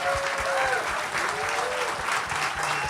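An audience at a live talk applauds steadily, a dense wash of clapping filling the room with faint cheers.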